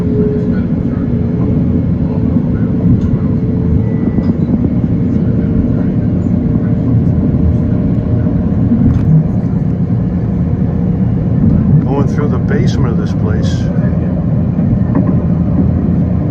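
Long Island Rail Road express train bound for Babylon, a steady low rumble and rolling rail noise running continuously throughout, with a brief burst of higher screeching and squealing near the end; a voice speaks over it.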